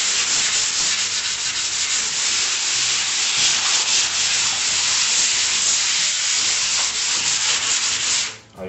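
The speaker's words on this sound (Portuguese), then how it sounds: "Agora, na hora de lixar, eu lixo muito rápido." Fast, continuous scratchy rubbing of 220-grit sandpaper over putty on an EPS foam ceiling, close and steady for several seconds before stopping briefly at the end.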